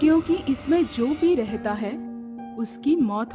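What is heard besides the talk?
No everyday noises stand out.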